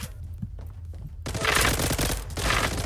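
A MAC-10 submachine gun fires in the online shooter game Zula. Loud, rapid automatic bursts grow denser and more continuous partway through, and no one talks over them.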